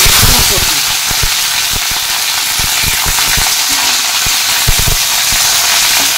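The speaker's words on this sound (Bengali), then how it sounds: "ফুলকপিগুলোকে ভালো করে ভেজে নেব" Cauliflower florets frying in leftover oil after potatoes, a loud steady hiss with sharp popping crackles scattered throughout, no voices.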